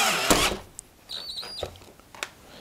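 A power drill drives screws into the floor while preparing a hearth area for a pellet stove, with brief high whirs and a few knocks and clunks nearby in a fairly quiet room.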